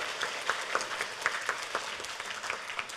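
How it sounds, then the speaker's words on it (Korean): Sparse, moderate applause from an audience at a crypto currency event in Korea, with a few distinct claps standing out over a light crowd background for a few seconds. "박수 한번 쳐주세요."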